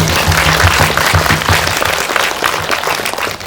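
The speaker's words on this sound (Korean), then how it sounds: "그럼 박수 한번 부탁드립니다" Audience applause at a film Q&A screening at an indie cinema, steady crowd clapping over a low sustained hum, loud and continuous before easing slightly.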